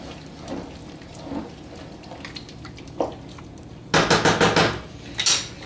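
Salsa with peppers being stirred in a pot, soft wet sloshing and a few light knocks, then a loud run of rapid spoon clanks against the metal pot, near and without talk.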